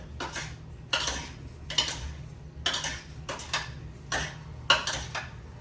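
A utensil stirs turmeric pasta with seafood in a pot, producing rhythmic scraping and clinking strokes roughly every second, close and distinct over a low background hum.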